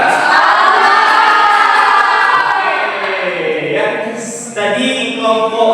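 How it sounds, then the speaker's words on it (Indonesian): A classroom audience applauds and cheers for group 2 during a teaching practice session: a loud, dense burst of clapping and crowd noise that fades somewhat partway through, then swells again near the end. "Kembali kita berikan aplaus untuk kelompok 2"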